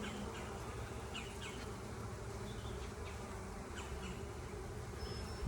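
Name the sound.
honey bees buzzing around the hive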